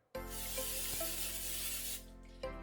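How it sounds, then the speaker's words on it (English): Olive oil sprayed into an air fryer, one steady hissing burst for about two seconds, close and clear, followed by a brief second short spritz. "just spray a little olive oil in there."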